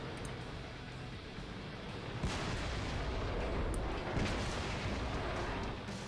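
A Jagdpanzer E-100 tank gun firing in World of Tanks, a heavy booming shot around the two-second mark followed by a rumbling tail, with another thudding blast shortly after over constant battle noise.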